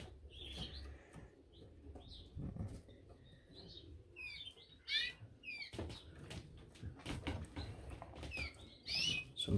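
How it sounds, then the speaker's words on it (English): Norwich canary chicks chirp and peep in short, high bursts at close range, scattered irregularly over soft rustling and low shuffling in the nest. "Nest of 4 Norwich chicks being reared by the feeder hen."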